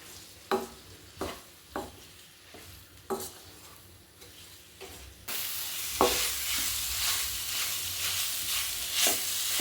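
Crushed dates roasting in ghee left over from almonds: a series of sharp spatula scrapes and taps against the pan, then a bright, steady sizzle rising and filling the second half.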